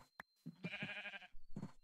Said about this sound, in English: let's put five sheep in each pen